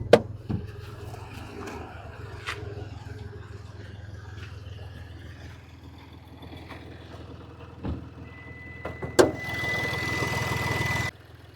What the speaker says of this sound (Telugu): ఇప్పుడు ఇంజన్ ఆన్లో ఉంది, మీరు ఇంజన్ సౌండ్ వినొచ్చు.